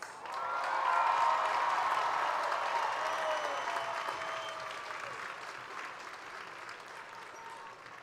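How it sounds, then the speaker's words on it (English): A large crowd applauds graduating students at a high school graduation ceremony, steady sustained clapping swelling early then slowly tapering, with faint cheers and murmuring mixed in. "Let's give them a big round of applause."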